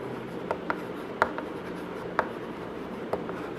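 Chalk or a marker writes on a classroom board with a continuous soft scratching rub, broken by several sharp taps as strokes start and end, heard close with no talking over it.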